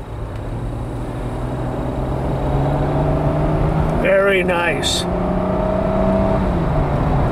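A 1994 Mercedes-Benz E320 convertible cruises down the road with a steady, smooth engine drone and wind-and-tire rumble, close and continuous, while someone briefly speaks over it.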